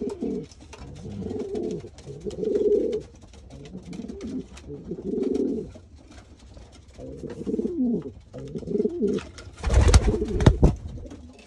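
Young racing pigeon cooing close up, a series of soft, low rolling coos in repeated phrases, with a brief loud rustle or flap near the end.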